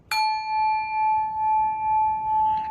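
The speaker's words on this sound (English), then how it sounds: "The bell gave one final resounding chime," A single bell chime strikes sharply and then rings on with a long, steady sustained tone and gentle pulsing, alone and clear, in an eerie haunted-house setting.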